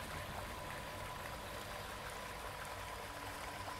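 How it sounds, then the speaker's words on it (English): Steady rushing water flows without pause in a Roblox video game, a continuous broadband wash with no talking, ending in a brief sharp click. "I hear the water, but I don't see it"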